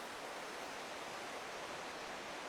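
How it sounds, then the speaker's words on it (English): The Findhorn River flows in a steady, broadband rushing wash, soft and continuous with no breaks and no voices, like moving water heard from the bank. "can you hear the river?"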